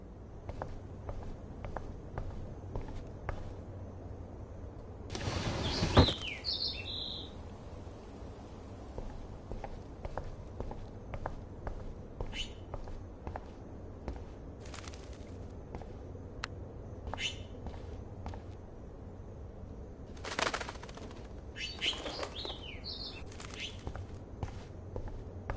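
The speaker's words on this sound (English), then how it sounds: "Oh no, that poor little bird has been trapped in here." A small bird trapped indoors in the video game Life is Strange gives a few high chirps and bursts of fluttering wings, separated by long quiet stretches of soft pattering steps.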